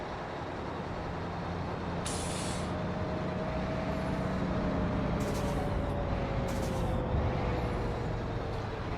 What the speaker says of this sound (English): I like the Greyhound bus sound because that's what a bus sounds like,